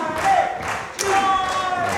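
A British wrestling crowd at Brave New World 2025 roars and cheers in surges during a match, with a commentator talking over the noise and occasional thuds.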